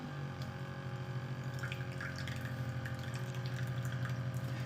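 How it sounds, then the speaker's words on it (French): A portable digital coffee machine extracting coffee from boiling water gives a steady, close pump drone with a pulsing hum and light liquid trickling, alone without voices. "Et ça extrait directement le café."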